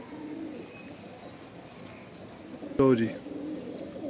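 A Madrasi pigeon gives a brief throaty coo close by, partway through; someone speaks briefly around it over low background hum.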